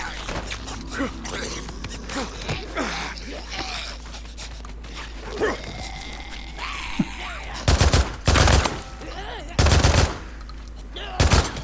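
Automatic gunfire in the video game Days Gone: several loud, sustained bursts fill the second half, following a busier stretch of game noise that may include a voice.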